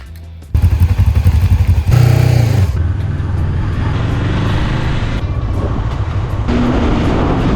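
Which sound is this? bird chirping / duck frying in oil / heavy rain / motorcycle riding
motorcycle riding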